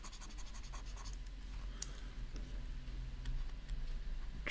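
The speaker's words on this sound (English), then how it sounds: "Sorry, let me just write that again." Faint chalk or marker strokes scratch and tick against a board during a tokamak physics lecture, quiet and intermittent with no voice heard.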